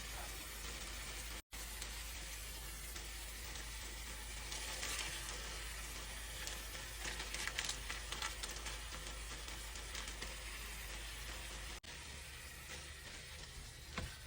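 Ground beef fries in a pan with a soft, steady sizzle and crackle, quiet and continuous, with a couple of brief dropouts.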